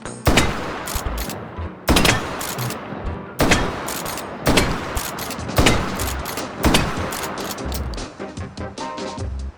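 Pump-action shotgun fired repeatedly in the H3VR virtual reality game, about seven sharp, loud blasts spaced roughly a second or so apart, each followed by short mechanical clatter.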